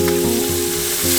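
Shrimp sizzle hard in hot oil in a pan for Chinese lo mein, a loud continuous frying hiss with crackling spatter and a few stirring scrapes, steady throughout with no talking.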